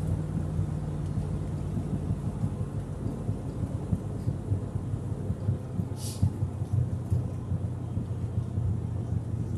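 Steady road traffic rumbles around a moving Chevrolet C4 Corvette on an early-morning drive, a continuous low drone of engine and tyre noise with one brief higher whoosh partway through.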